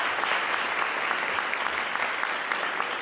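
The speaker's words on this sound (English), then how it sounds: "give them a round of applause for that" An audience at a school district event claps in a sustained round of applause, dense and even from many hands, with no speech over it.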